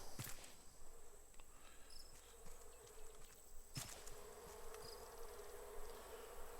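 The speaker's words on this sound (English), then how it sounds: "So still bugs me from time to time hearing the sound of bees." Bees buzz steadily in the survival game Raft, a continuous insect drone with small flickers, plus a couple of sharp clicks or footsteps cutting through near the start and middle.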